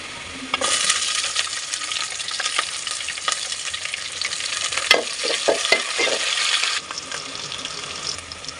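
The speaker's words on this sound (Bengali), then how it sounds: "এর মধ্যে আমি দিব কাঁচামরিচ কুচি" Half-fried onion and freshly added chopped green chillies crackle in hot oil in a pan. A loud sizzle flares up and holds, with a burst of stirring scrapes midway before it drops quieter.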